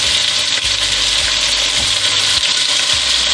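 Meat for plov fries in a pan with a constant close sizzling hiss, punctuated by a few low thumps from stirring, with no talking over it.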